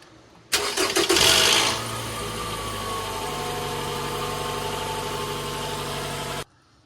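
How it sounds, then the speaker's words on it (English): A Toyota car engine with variable valve timing starts up: a brief cranking burst with a short rattle, then it settles into a steady, even idle before shutting off. "So the VVT rattle was a lot less that time when it started up"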